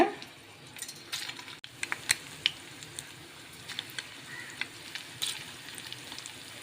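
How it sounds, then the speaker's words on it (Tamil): Small balls of egg fry in hot oil over a medium flame with a steady, close sizzle. Soft pops and light clicks break through now and then, and no one speaks. "மீடியம் ஃப்ளேமில் வச்சு பொறிச்சு எடுத்துக்கலாம்"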